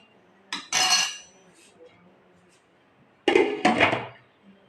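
A pot of fish curry is set down on a stove, giving two separate bursts of metallic clattering and clinking, close by, with quiet pauses between them.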